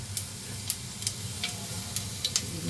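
Cumin and other tempering spices crackling in hot oil for mango pickle, a soft continuous sizzle broken by several sharp, irregular pops and spits, close at hand with no talking.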